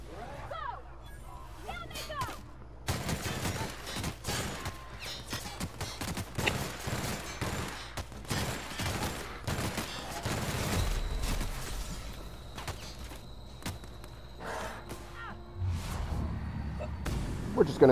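Gunfire in the video game The Outer Worlds, a steady string of sharp, loud game shots and bursts running through most of the stretch, with voices talking over parts of it.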